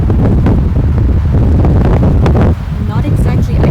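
Strong wind buffets a remote Montana mountain lake, roaring steadily and loudly against the microphone with gusty low rumble throughout, and no one speaks.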